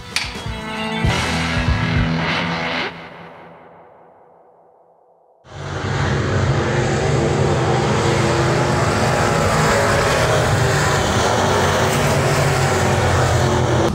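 Enduro race car engine at Springfield Raceway in Missouri, a loud sustained roar that fades out, goes quiet briefly, then returns abruptly at full strength and holds steady.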